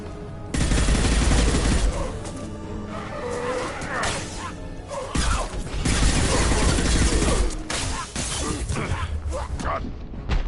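Dense enemy gunfire in Mass Effect 2 on Insane difficulty, with rapid overlapping shots, impacts and crashes filling the whole stretch at high loudness, plus bits of game speech mixed in.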